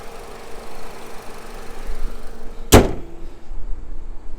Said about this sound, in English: Nice quiet running motor.